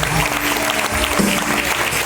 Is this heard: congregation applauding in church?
yes